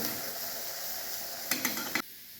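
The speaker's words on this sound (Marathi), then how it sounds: "या प्रकारे आपल्याला पलटून घ्यायचं आहे" Ridge gourd slices frying in a pan, a steady soft sizzle broken near the end by three quick spatula scrapes as the pieces are turned, close and fairly quiet.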